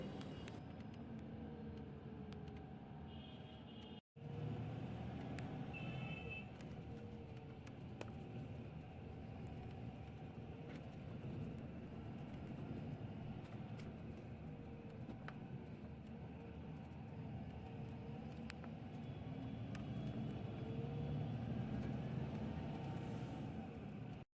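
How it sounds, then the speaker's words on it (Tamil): Steady low engine rumble and road noise from inside a KSRTC Swift Gajaraj AC sleeper bus creeping inch by inch through heavy Bangalore traffic, continuous and fairly loud with a brief dropout near the start, no talking. "அப்படியே செம்ம டிராஃபிக்கில் வண்டி அப்படியே இன்ச் பை இன்ச்சாக தாங்க போயிட்டுருக்கு."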